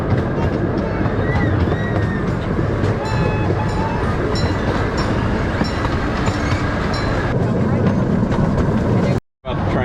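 The Houston Zoo train of the Hermann Park Railroad rumbles and clatters steadily up close, while people talk over it, until the sound drops out briefly near the end.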